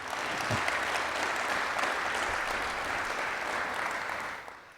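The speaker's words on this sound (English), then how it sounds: "So can we give them a round of applause for applying?" Applause at a community press conference: a steady wash of clapping from a modest crowd, moderately loud and sustained, fading out at the end with no voices over it.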